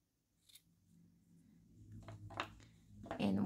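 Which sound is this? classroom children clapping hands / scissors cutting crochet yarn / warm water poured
scissors cutting crochet yarn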